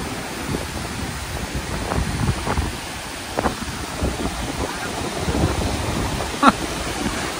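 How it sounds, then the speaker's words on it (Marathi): Strong wind buffets the microphone at a dam, a continuous low roaring rush with gusty surges, close and loud, with a sharp knock near the end. "वारा पण सुंदर सुटलाय."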